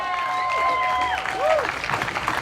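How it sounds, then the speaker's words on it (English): An outdoor crowd at a political bus tour stop in Burnsville, Minnesota, applauds. The moderate, steady clapping continues under a voice talking over it. "Yeah, applaud that, by the way. Applaud it."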